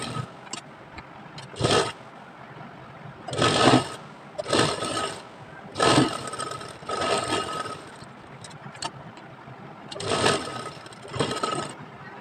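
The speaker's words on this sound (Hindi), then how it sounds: "अब यहाँ पर भी एक एक सिलाई लगा देनी है, 5 इंच का मार्जिन छोड़ते हुए तीनों तरफ।" An electric sewing machine stitches a co-ord set in several short runs, its motor whirring and the needle chattering in bursts of a second or so with pauses between, close and fairly loud, with no speech.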